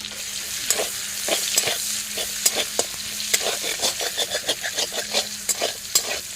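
Onion and bay leaf frying in hot oil, a steady close sizzle broken by repeated scraping strokes of a spatula stirring through the pan, with no talk.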